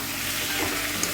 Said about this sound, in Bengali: এবার দিয়ে দেবো কচুর লতিগুলো